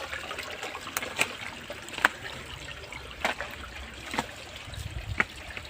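Water from a natural spring trickles and flows quietly outdoors, with soft splashes and occasional brief drips over a low, steady babble.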